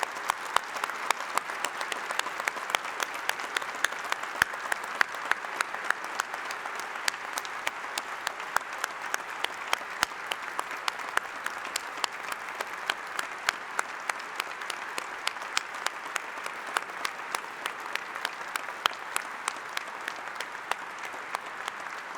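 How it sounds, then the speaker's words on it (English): Long, steady audience clapping for graduates at the York St John University graduation ceremony, a wash of many hands from a large hall with distinct sharp claps peppered throughout, sustained at an even level. "Will you please join me in giving a humdinger clap of congratulations to all our graduates?"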